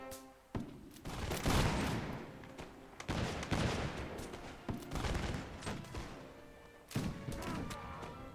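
A ragged volley of massed musket fire from a Mount & Blade Warband battle, several loud crackling bursts with rumbling echoes spread over several seconds.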